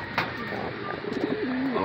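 Pigeons at a backyard pigeon farm with laying hens and young birds coo nearby. A soft, wavering coo rises toward the end over a steady background hum, with no talking.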